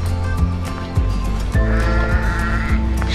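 A sheep bleats repeatedly outdoors along a path to the Madenburg castle ruin, its calls close and loud with a steady layer of other animal or ambient sound beneath.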